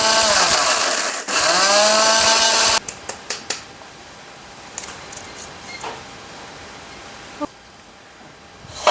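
A mixer grinder whirs loudly for about three seconds as it grinds dried beetroot into powder, then cuts off. Light clicks and clinks of the jar being handled follow in near silence.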